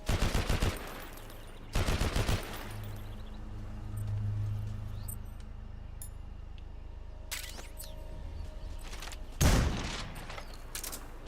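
Gunfire in a Metal Gear Solid game, fired in short, hard bursts near the start, again around two seconds, and once more near the end, with a low rumbling ambience in between and no talking.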